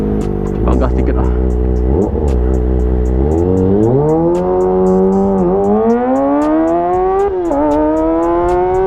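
A Kawasaki ZX25RR motorcycle accelerates hard, its engine note climbing steadily in pitch through the revs as a loud, close, high-revving whine that runs throughout.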